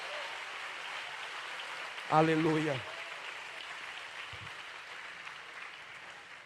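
A congregation at an evening church worship service applauds steadily throughout, a dense hiss of clapping, while a voice briefly calls out over it near the middle.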